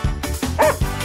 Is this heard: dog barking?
yes